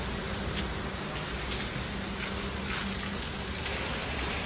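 Heavy, continuous rain falling in Mumbai, a dense, steady, close hiss of drops pattering on surfaces with no breaks and no talking.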